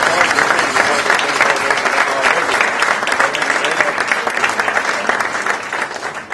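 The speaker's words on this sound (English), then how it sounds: "Give a big round of applause." Loud, dense audience applause fills a 100th birthday party celebration, sustained and steady throughout with a crowd clapping together before tapering slightly at the end.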